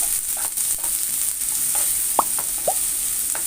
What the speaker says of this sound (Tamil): இப்போ வெங்காயத்தை நான் போட்டுக்கிறேன். இதை நல்லா வதக்கிக்கலாம்.